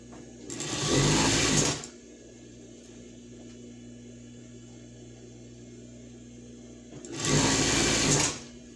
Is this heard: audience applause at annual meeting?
no